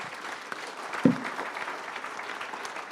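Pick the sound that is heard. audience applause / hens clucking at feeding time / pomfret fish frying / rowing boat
audience applause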